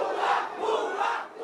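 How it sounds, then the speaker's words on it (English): Huge crowds storming and looting an official residence in Bangladesh, a dense, loud mass of shouting voices rising and falling in waves, close and continuous. "Huge crowds storming and looting her official residence."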